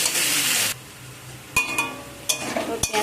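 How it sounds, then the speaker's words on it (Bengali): Onions fry in a pan with a loud burst of sizzling that stops abruptly, followed by a few sharp clinks and scrapes of a utensil against the pan; close and alone, without talking. "ভালো করে পেঁয়াজগুলোকে ভেজে নেব।"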